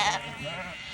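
Sheep bleat briefly in a grassy field at sunset as the flock settles onto new pasture, a short wavering call, fairly close, with a faint voice at the start.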